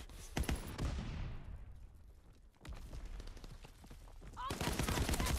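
Gunfire in the Call of Duty: WWII beta, with a burst of automatic shots, a decaying rumble, then further scattered shots and another loud volley near the end.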